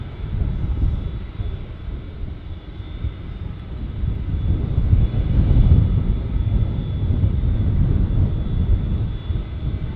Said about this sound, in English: only the inboard reversers deploy due to the width of the runway